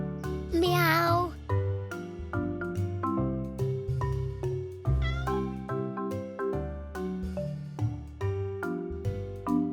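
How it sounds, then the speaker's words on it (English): A cartoon cat in a children's show meows a couple of times, high and gliding, over bouncy background music with plucked, rhythmic notes. "Meow."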